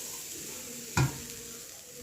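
Soft frying sizzle of grated coconut roasting in a pan, with a brief scrape of stirring near the middle, quiet and close.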